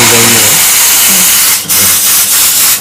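An espresso machine steam wand hisses loudly while steaming milk for a Spanish latte, a dense continuous roar with a brief dip and low gurgling underneath, close and dominant throughout.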